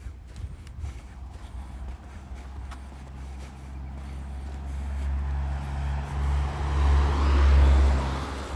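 Cars passing along a quiet street in Puerto de la Cruz, Tenerife, a steady low engine and tyre rumble that swells as a vehicle draws near and grows louder toward the end.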